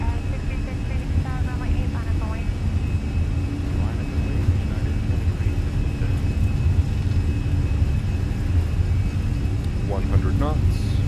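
Airliner jet engines at takeoff thrust in Microsoft Flight Simulator (Fenix), a loud continuous roar and whine throughout, with voices talking over it.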